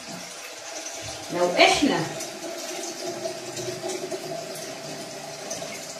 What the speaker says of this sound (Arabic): هحط مية سخنة، سخنة من السخان بتاع البيت عادي جدا